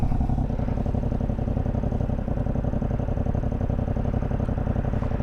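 A Yamaha MT-07 motorcycle ridden at steady speed with its engine droning continuously at close range, a constant mid-pitched rumble and no speech.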